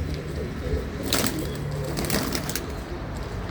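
Low pigeon coos murmur close by, with a couple of brief fluttering, rustling bursts over a steady low background.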